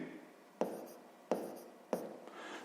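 Pen writing on paper while working a sixth-grade math exercise: three distinct, close strokes at a steady rhythm, each a short scratchy burst that fades into soft continuous scribbling, with no talk.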